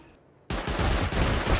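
Rapid burst of video game gunfire starting abruptly after a brief quiet moment, loud and close, with repeated rhythmic shots continuing to the end.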